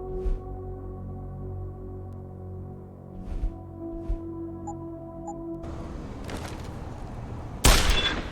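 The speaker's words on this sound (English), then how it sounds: "Fucking gunshots!" Gunfire rings out in the video game Deus Ex: Human Revolution. After a calm stretch of tonal background sound, sharp bursts of shots break in near the end, the last one loudest.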